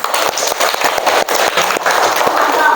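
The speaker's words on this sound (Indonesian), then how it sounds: "Oke, tepuk tangan dulu." A school class clapping hands together in a dense, sustained burst of applause, loud and close, lasting a few seconds.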